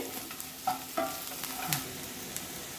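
Onions frying with salt in a pan while being stirred: a faint, steady sizzle broken by a few soft scraping strokes of a spoon, fairly quiet and close.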